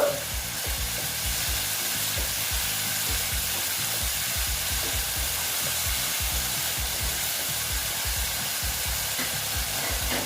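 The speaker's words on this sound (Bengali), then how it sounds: "দেখো স্টিমটা কমিয়ে দিয়েছি আস্তে আস্তে কষিয়ে নেব দেখো বন্ধুরা" Pointed gourd sautés in spices in a pan, giving a continuous, even sizzling hiss with soft rapid crackles throughout, close and unbroken, with no voices.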